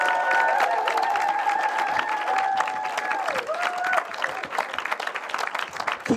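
An audience at a film festival awards night keeps applauding the Best in Festival winner, thick continuous clapping with scattered cheers and voices mixed in, loud throughout.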